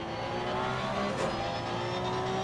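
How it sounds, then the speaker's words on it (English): A Porsche GT3 race car at Nürburgring in Assetto Corsa Competizione drones steadily, short-shifting to save fuel, its engine note held fairly even and moderately loud throughout. "He's short shifting the Porsche as well."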